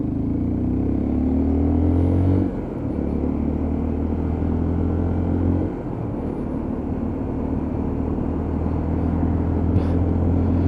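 A Lexmoto ISCA motorcycle pulls through the gears with a steady engine drone and rumble, and the pitch drops sharply at each gear change.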